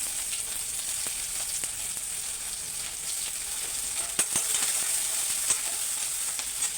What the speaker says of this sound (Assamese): পিঁয়াজখিনি অকণমান ৰঙা হোৱালৈকে ভাজি ল'ম।